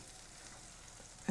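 Kefir pancakes fry in a skillet, a soft, steady sizzle heard close but quiet for about a second, ending in a brief bump of louder noise.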